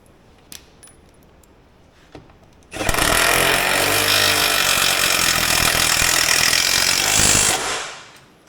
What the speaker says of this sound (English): we will take a thread cutter and the impact wrench, and we will bolt that in there.